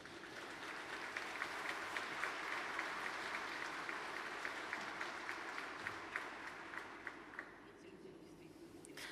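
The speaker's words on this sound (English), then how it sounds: "Nobody asked them to clap and to applaud." Sustained audience applause fills a hall at an economic forum in St Petersburg, steady and moderately loud with individual claps audible, tapering slightly near the end.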